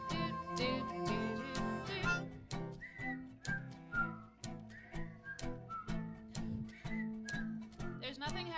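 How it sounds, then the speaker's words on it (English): A room of people whistles a bright tune of short, bouncy notes over rhythmic, plucky music at a live concert, the whistling fairly prominent and cheerful. "There's nothing happier than a room of people whistling."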